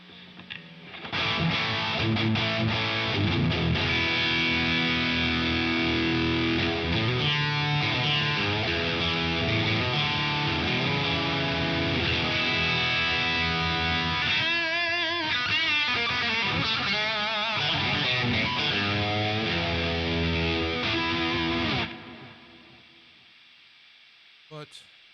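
An electric guitar plays through overdrive in the GigFast iOS amp app: sustained distorted chords and notes ring continuously for about twenty seconds before cutting off abruptly.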